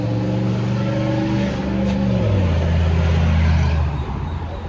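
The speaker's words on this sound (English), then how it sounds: "I hate that trucks and cars are so loud and they barely move." Road vehicles rumble past close by, a steady engine drone shifting in pitch as they move slowly, with no talk heard.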